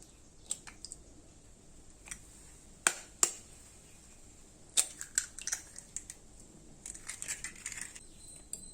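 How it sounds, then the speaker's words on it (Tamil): Two eggs are cracked into a bowl, heard as sparse sharp taps and cracks with a few small clicks and drips, faint and close in a quiet room, with no voices. "இதுல இன்னைக்கு 2 முட்டை நம்ம உடைச்சு ஊத்திக்கலாம்"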